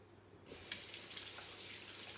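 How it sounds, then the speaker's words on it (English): Hands washed under a running kitchen tap during home cooking of pork belly, a steady close rush of water beginning abruptly and continuing with slight splashing variations, no talk. "Just gonna wash my hands."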